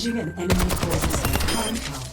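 Rapid bursts of Overwatch gunfire, a quick string of sharp shots after a brief pause, loud and close.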